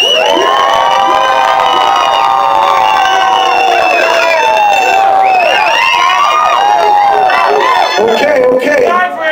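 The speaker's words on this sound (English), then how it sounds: "Make noise over here for Ice Grills." A rap battle audience cheers and screams loudly without pause, a dense, close wash of shouting voices and whoops that holds for the whole stretch.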